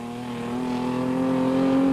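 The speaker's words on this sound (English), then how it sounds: "Norman Clark driving the Procost BMW." A BMW rally car at the Total Rally 1990 event, engine droning steadily and rising slightly in loudness as it drives close by.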